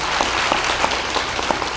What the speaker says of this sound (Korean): 박수로 한번 환영해 주시죠